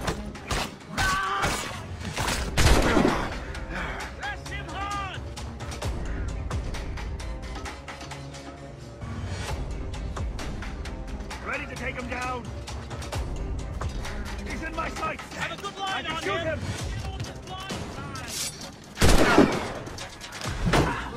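Gunfire in the video game Assassin's Creed Rogue: scattered musket-style shots and loud bursts at the start and near the end, with clattering mechanical noise, background music and voices throughout.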